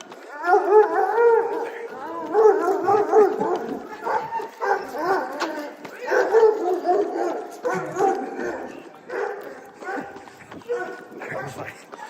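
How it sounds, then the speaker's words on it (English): A dog barks, howls and yips repeatedly at close range during a morning street run, loud and persistent, with someone talking. "why is that guy barking at me?"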